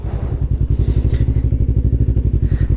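Yamaha R3 sports motorcycle engine idling or running at low revs nearby, a loud, even rhythmic thumping pulse that continues steadily throughout.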